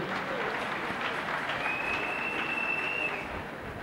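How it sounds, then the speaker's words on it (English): Congregation applauding in a church service, a steady dense wash of clapping throughout with a faint high whistle-like tone partway through. "Give Jesus a clap of him"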